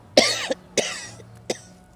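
Three harsh coughs, close and fairly loud, spaced about half a second apart, with a quieter catch after the first; no speech.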